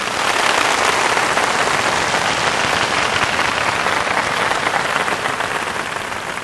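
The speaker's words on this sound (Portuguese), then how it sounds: "E é para esses melhores que temos que dar uma salva de palmas." A large lecture audience bursts into dense, loud, sustained applause, a steady roar of many hands clapping for over six seconds and tapering slightly at the end.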